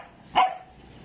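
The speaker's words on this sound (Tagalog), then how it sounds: "Bakit ka tumatahol?" A single short bark from a nearby dog, loud and sharp, standing alone against a quiet outdoor background.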